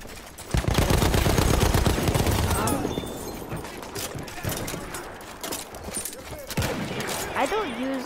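Light machine gun fire in Battlefield 1, loud sustained bursts of rapid shots up close, then sparser firing and distant battle noise with voices calling out.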